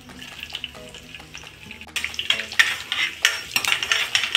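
Chopped garlic drops into hot oil for a tempering, first faint clinks and stirring, then a loud, crackling sizzle that swells and keeps popping close by, with no voices.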